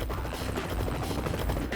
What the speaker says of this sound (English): Driving an unmarked Mitsubishi, Tim Scothen alerts the chopper to his position.